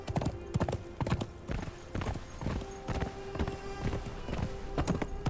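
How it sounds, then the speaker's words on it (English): Horse hooves clip-clopping steadily at a walking gait while riding in the Conan Exiles video game, close and continuous, with a faint hum underneath. "Let's get off the horse here."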